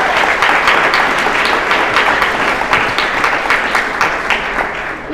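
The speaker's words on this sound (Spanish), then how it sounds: "Un aplauso y muchas gracias por estar con nosotros" Audience applause at a student-entrepreneur presentation event, a steady, loud wash of many hands clapping that holds evenly for about five seconds with no voices over it.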